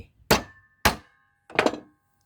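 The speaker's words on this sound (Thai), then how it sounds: "ตอกไว้ฝั่งหนึ่ง" A wooden tenon is driven into a door frame with three separate hammer blows, each a sharp, close, woody thunk with a short ringing tail, spaced unevenly over a couple of seconds.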